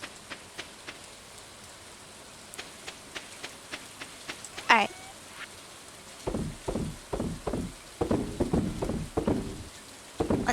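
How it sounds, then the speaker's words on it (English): Rain falls in the farming video game Stardew Valley, a soft steady patter under a run of clicky game sound effects that grow denser and louder in the second half. "It's raining here."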